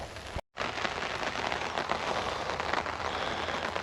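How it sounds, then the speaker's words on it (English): Steady rain pattering on a cabin roof in the woods, a dense continuous hiss close by with no voices. "The rain will build up and it'll pour off this side."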